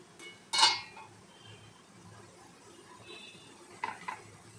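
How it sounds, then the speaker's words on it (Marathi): A lid is set back onto a cooking pot while making medu vada and sambar, giving a sharp metallic clink up close followed later by a softer double clatter over a quiet background hiss. "पुन्हा झाकण लावूया"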